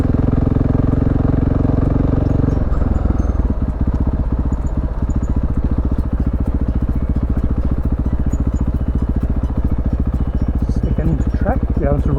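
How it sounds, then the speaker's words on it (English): A dirt bike's engine drones loudly and steadily close by, its pitch shifting partway through as the motorcycle rides out, with faint voices underneath. "Looks like a dirt bike riding out."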